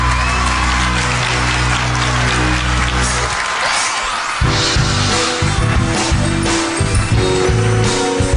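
A studio audience at a televised singing competition bursts into loud, sustained applause to welcome a contestant, while music plays underneath and then swells partway through.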